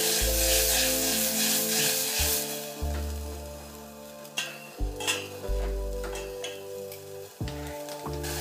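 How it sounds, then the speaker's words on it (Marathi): Moth beans (matki) tossed in hot oil in a pot with salt and turmeric, a loud continuous sizzle broken by scraping, stirring strokes and a metallic clatter of the pan near the end, close and without speech. "आता ही मटकी घातली की ही मटकी थोडी टॉस करून घ्यायची"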